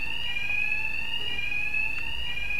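A continuous electronic alarm rings in the video game Batman: Arkham Knight, a steady high-pitched tone held throughout at constant loudness with no speech over it.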